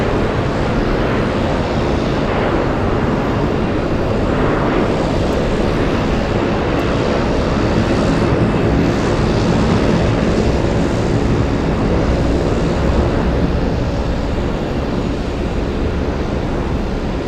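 An SAS airliner going around at Boston Logan gives a loud, sustained broadband jet engine roar that holds steady throughout, heard from a distance across the airfield.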